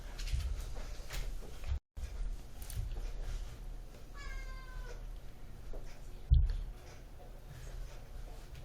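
A few electronic cat meows sound faintly over a low background hum, with a brief sliding tone midway and a short bump near the end.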